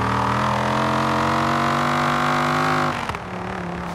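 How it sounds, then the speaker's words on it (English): Dodge Viper ACR in Forza Horizon 4 holds a loud sustained engine roar with rising pitch, then cuts abruptly near the end into a lower idle rumble. "this Dodge Viper ACR does sound like this."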